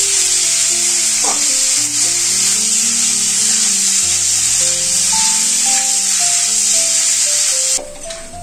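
Chicken pieces sizzling as they are sautéed (kosha) in a pan, a steady bright hiss throughout with background music playing over it.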